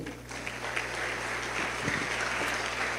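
A church congregation breaks into sustained, dense applause, many hands clapping at once in a moderately distant, reverberant hall, steady for the whole stretch with a little crowd murmur underneath.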